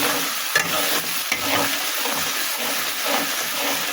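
Cumin and onion paste fry in a pan for basmati rice, giving a loud, steady sizzle with faint stirring scrapes throughout.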